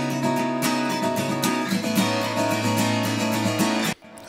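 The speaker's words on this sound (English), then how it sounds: "So I've got two mono acoustic guitars there that make a stereo pair." Two mono acoustic guitar tracks forming a stereo pair strum together in a steady rhythm, full and close, before cutting off abruptly near the end.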